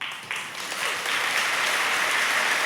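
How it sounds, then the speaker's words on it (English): A church congregation clapping, a dense wash of many hands that swells quickly and holds steady and fairly loud. "Lovely, thank you so much for clapping."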